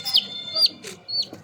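A pet hen named Tiku, a tiger-patterned chicken, gives a few short, close clucks and chirpy calls in quick succession, with no talking over them.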